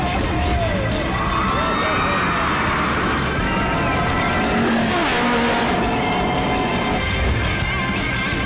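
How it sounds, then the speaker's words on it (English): Dense, steady rumble and rushing roar from Lightning Rod, the wooden launched roller coaster at Dollywood, with whining tones and wind noise running continuously at close range. "The world's first and fastest wood launch coaster."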